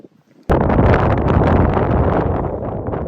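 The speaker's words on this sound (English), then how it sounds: "I'm sorry if that wind's getting up already." Strong wind on open moorland buffets the microphone in a sudden loud, rumbling roar that starts after a brief quiet moment and persists, gusting unevenly throughout.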